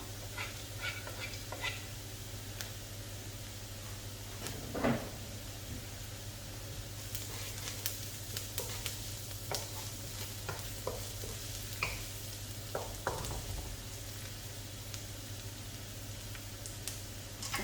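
Garlic frying in a pan, a soft steady sizzle with scattered light stirring scrapes and taps, quiet and close with no talk.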